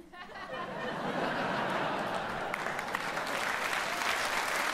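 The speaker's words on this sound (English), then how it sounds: "Thank you for clapping." Comedy club audience breaks into applause after a stand-up joke, dense steady clapping that swells quickly and holds, with a few chuckles and murmurs mixed in.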